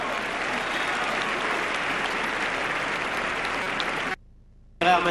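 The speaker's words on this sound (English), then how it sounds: "Applauded from the rooftops." A tennis crowd applauds Federer during his match against Ancic in a loud, sustained, dense wave of clapping that cuts off abruptly near the end, then returns briefly.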